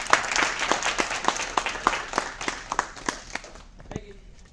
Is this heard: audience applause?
yes